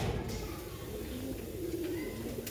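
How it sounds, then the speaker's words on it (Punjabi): A pure-bred Sialkoti pigeon coos softly and steadily, low and close, with faint background noise and no talk. "ਸਹੀ ਮਾਸ਼ਾਅੱਲਾ ਆਊਟ ਕਲਾਸ ਕਬੂਤਰ ਹੈ।"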